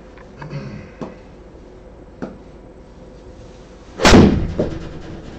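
An eight iron strikes a golf ball on an indoor simulator, producing one sharp, loud impact near the end, preceded by a few softer taps and knocks.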